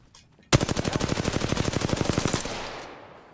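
A rapid automatic burst of gunfire in the Apex Legends shooter game, about two seconds of evenly spaced shots close and loud, then a fading tail.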